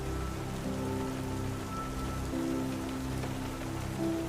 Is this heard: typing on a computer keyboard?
no